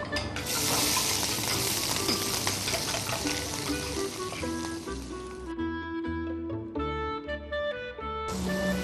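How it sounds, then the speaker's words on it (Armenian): Carrots fry in sunflower oil in a hot pan with a loud, close, steady sizzle that eases into lighter crackles and stirring clinks, then flares up again at the end. "Ավելացնենք գազարը եւ տապակենք"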